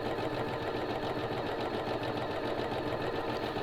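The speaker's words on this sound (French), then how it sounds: "on peut coudre son caleçon tout à la machine à coudre" A sewing machine stitches a pair of men's boxer underwear, its motor running in a steady, continuous whir close by with no talking.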